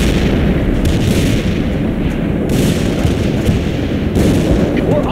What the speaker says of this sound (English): That's good to see those AA guns back in action, Lieutenant. They're firing